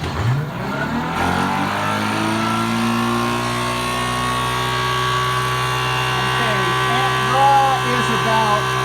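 Electric motor spinning up and running at speed, a loud steady whine with rising tones in the first second and a sustained hum after, a voice briefly over it near the start.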